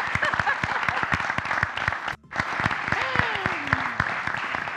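A TV show audience applauds, dense clapping that runs loud and steady, breaks off briefly near the middle, then resumes while a presenter's voice carries over it.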